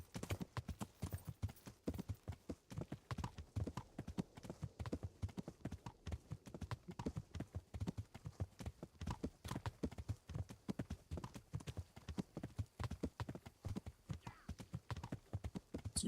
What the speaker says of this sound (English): you hear a horse galloping toward you